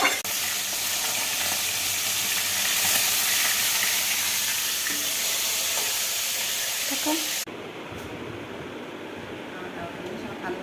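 Dried red chillies sizzle in hot oil in a frying pan, a dense steady hiss that runs loud and close before dropping to a softer crackle partway through, while a person talks over it.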